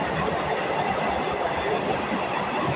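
A freight train rushes fast past the platform at Lasalgaon railway station, a loud, continuous rolling roar with rhythmic wheel clatter.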